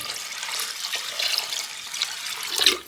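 About half a litre of water runs in a steady hissing pour for a few seconds, splashing into a pot of dal makhani, with a brief louder gush near the end.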